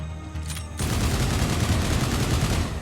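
The Lancer assault rifle in Mass Effect 2 opens up in a sustained, rapid stream of shots that starts abruptly after a short lull and keeps going loud and dense to the end.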